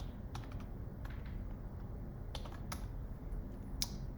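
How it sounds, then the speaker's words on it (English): A password typed on a computer keyboard: quick, light key clicks in short bursts, with pauses between them, close to the mic over a steady background hum. "Let me type in the password."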